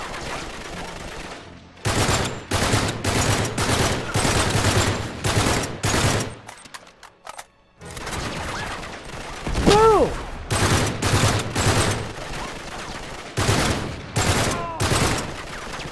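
Sustained automatic gunfire in Uncharted 3, loud close bursts in long rapid strings with a short quiet gap midway, then more firing with brief pauses.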